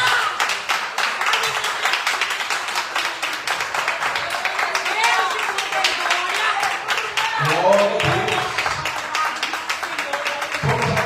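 Congregation in a church service claps in a steady rhythmic beat, sharp repeated hand claps mixed with voices speaking and singing throughout.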